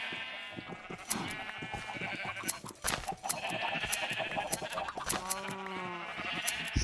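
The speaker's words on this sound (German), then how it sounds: "Das dritte Schaf, was jetzt entkommen ist." Sheep bleat repeatedly in the video game Minecraft, several close, wavering calls over busy game sounds with scattered sharp clicks.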